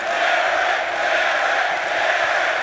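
A large esports arena crowd at the CS:GO Eleague Boston Major 2018 grand final, FaZe vs Cloud9, keeps up a steady, dense roar of cheering with no break.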